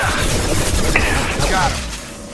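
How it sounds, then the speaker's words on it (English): Shotgun blasts and crashing impacts during a firefight in Mass Effect Legendary Edition, loud and dense over a rumbling game mix, with a voice speaking through it. "Shotgun!"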